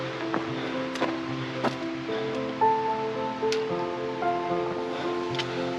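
Donahue Creek, a mountain stream on a backpacking trail, flows with a steady, moderate rush of water. Scattered brief chirps and faint tonal sounds sit over it, with no speech.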